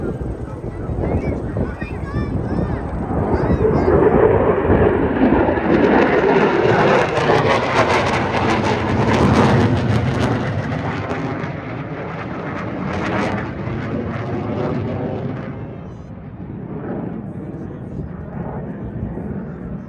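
A B-25 bomber roars past at an air show, swelling loud then fading over several seconds, with wind buffeting and crowd voices and an announcer talking throughout.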